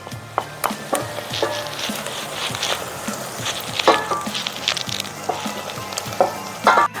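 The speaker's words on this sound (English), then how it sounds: "We're going to saute the shallots until they become translucent." Shallots with sage, rosemary and tarragon sauté in a pan, giving a steady close sizzle and frying hiss broken by occasional scrapes and taps of stirring, with no talking.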